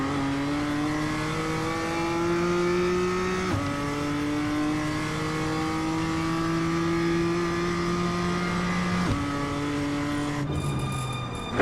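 A BMW M2 race car in the iRacing game drives a lap at Monza, its engine droning loudly and steadily as it climbs through the revs, with sharp shifts cutting the pitch a few times and heavy braking near the end.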